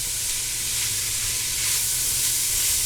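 Spices cook in a pan for Cuban sloppy joes made with ground pork. A steady, close sizzle and hiss lasts a few seconds, with no voices.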